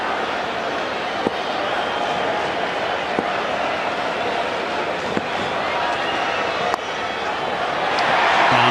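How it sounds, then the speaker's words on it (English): A capacity crowd at the Wanderers stadium roars steadily through a tense cricket finish, a broad sustained wall of cheering that swells louder toward the end, with a few sharp knocks and claps cutting through. "Loud cheer again from the capacity crowd of the Wanderers."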